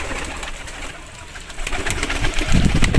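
Parwazi pigeon chicks, a healthy and active clutch of about ten, coo softly and intermittently at close range amid background noise, the calls growing louder toward the end.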